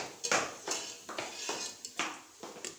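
Browned onions being scooped out of a pan for chicken haleem, several light metallic scrapes and clinks of a spoon against the pan, close and quiet, spaced at a steady pace.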